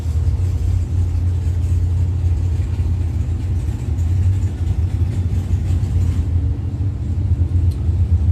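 Top door slammer drag race cars at the Blue Oval Battle 2021 drag strip roar with a steady, loud, dense engine rumble that holds for the whole stretch with no talk over it.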